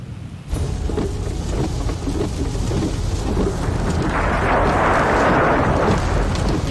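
Heavy rain pours down over the Australian desert near Uluru after a sudden onset, with deep rolling thunder rumbling underneath and the downpour swelling louder toward the end.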